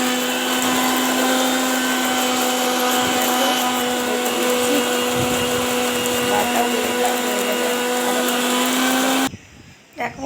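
An electric blender grinds poppy seed paste in a home kitchen, a loud steady motor whine with a constant hum that runs unbroken for about nine seconds and then cuts off abruptly.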